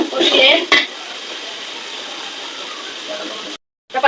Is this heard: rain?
no